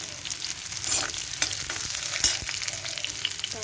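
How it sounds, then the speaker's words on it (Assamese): Onion fries in hot oil for a soybean curry, giving a loud, close, continuous sizzle with scattered crackles and faint stirring scrapes; no one speaks. "তেলটো গৰম হোৱাৰ পিছত পিঁয়াজ দিব।"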